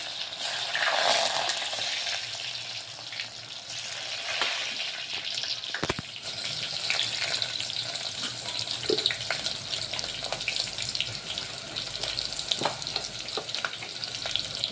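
Chopped onions hit hot oil and fry with a dense, continuous crackling sizzle, and occasional stirring scrapes are heard close up throughout.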